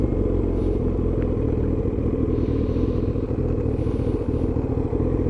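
A Kawasaki motorcycle rides along with a dense, continuous engine roar close to the rider, holding steady and loud throughout with rushing wind over it.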